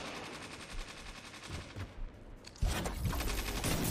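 Video game shootout gunfire: sparse, quieter shots at first, then a sudden loud stretch of rapid automatic fire that keeps going to the end.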